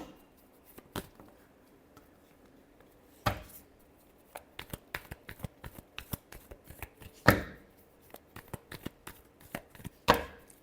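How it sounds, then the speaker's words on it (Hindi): Tarot cards being shuffled by hand, a series of sharp irregular riffles and slaps with a few louder bursts, close and otherwise quiet. "Last shuffle."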